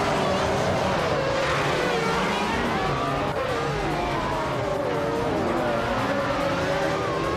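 Race cars in a racing video game roar and whine continuously at close range, with shifting engine pitch, tire squeal and skidding, under steady commentary speech.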